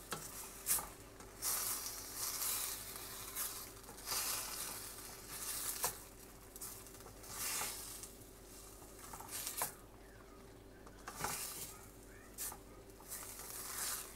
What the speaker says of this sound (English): ilagay na natin yung ating shrimp. Mix it well.